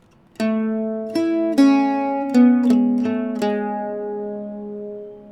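An Irish bouzouki plays the second measure of the tune Winter Is Cancelled, seven plucked notes in an uneven, lilting rhythm, bright and close, the final note ringing into a slow decay with no talk.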